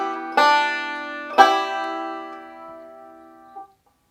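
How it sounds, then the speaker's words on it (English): A banjo picks the opening of Blackberry Blossom, two bright plucked attacks whose ringing notes sustain and slowly fade, ending with a soft muted touch, close and alone. "this is going to be a forward roll and then a single note with a pinch at the end of it"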